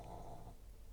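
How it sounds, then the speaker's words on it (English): A dog snores, one short, low, rumbling breath heard faintly and close by. "sorry, that was my dog snoring"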